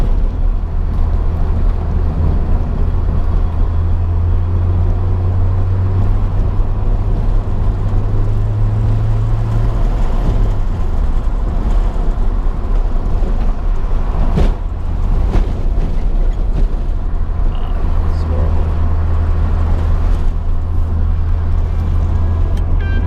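Honda Prelude fitted with coilovers driving over a bumpy, rough road, heard as a steady, loud low engine and road rumble throughout with a brief thump near the middle.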